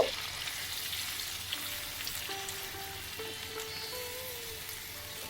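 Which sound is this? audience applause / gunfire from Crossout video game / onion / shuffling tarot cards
onion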